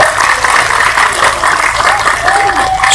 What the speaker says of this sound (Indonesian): Tepuk tangan untuk teman-teman kita Korea.